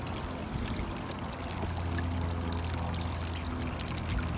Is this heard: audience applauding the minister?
no